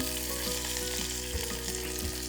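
Curry leaves and garlic fry in hot oil for a cowpea mallum, giving a loud, steady sizzle close by with faint rhythmic stirring taps and no talking.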